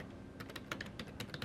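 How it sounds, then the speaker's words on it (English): Quick keystrokes on a computer keyboard while naming a sketch in Vectric Aspire 11.5 CAD software, a rapid irregular run of crisp taps, close and fairly quiet over faint room noise. "we'll type in 12th fret"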